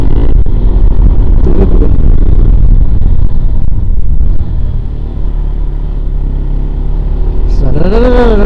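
A motorbike ridden on a road, heavy constant engine rumble and wind buffeting close to the rider, with a voice talking over it and a rising-falling engine whine near the end.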